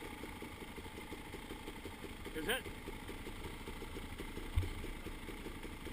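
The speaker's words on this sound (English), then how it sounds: "Sounds like it's idling low." A vehicle engine idles low and steady at a river crossing, a faint, even rumble running throughout, with one brief voice and a short knock near the end.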